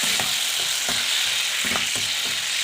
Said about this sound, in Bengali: সেটাকে আমি আলুটাকে একটু পরিমাণ মতো লবণ দিয়ে আলুটাকে ভেজে নিচ্ছি